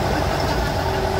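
A farm tractor's engine roars steadily while carrying passengers on a ride at about 10 mph, a loud, continuous low rumble filling the short moment.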